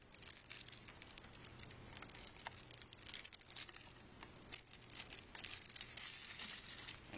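Plastic covering being peeled off a Foley catheter, close-up crinkling and crackling that runs continuously at a fairly faint level with scattered sharper rustles.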